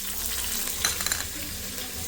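Onion and coriander leaves frying in a pan for a Maharashtrian mutton dish, a steady close sizzle with faint stirring scrapes and no talk.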